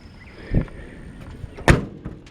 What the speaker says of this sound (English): the doors have brand new weather stripping on them, which means you'll have to slam them a little bit